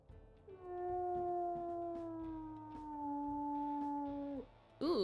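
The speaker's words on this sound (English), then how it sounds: "we'll also listen to his howls" A deep wolf howl from the game WolfQuest, one long sustained tone that slowly glides downward and cuts off near the end, standing alone and clear in the foreground.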